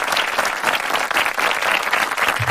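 Steady, dense hand-clapping applause from a group fills the whole stretch, loud and continuous without a break.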